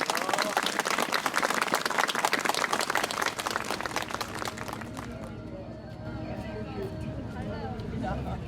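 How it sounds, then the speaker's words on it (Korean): A rally crowd demanding a democratic-merit law breaks into dense, loud, sustained applause that fades after about five seconds, leaving a voice talking over a quieter background. "우리 그분들께, 우리 어머니 아버지들께 여러분 격려와 감사의 박수 보내주시기 바랍니다."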